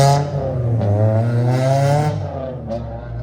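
An engine-swapped Toyota Starlet race car pulls out of the pit lane at Knockhill circuit. Its loud, close exhaust rasps and climbs in revs, dropping briefly at a few gear changes before fading slightly as it moves away.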